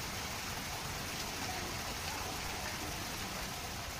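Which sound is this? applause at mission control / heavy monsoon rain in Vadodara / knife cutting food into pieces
heavy monsoon rain in Vadodara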